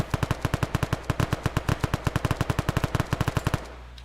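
A SAW light machine gun fires in Arma 3: a long, steady, rapid burst of loud, punchy shots in even rhythm that runs for about three and a half seconds and then stops abruptly.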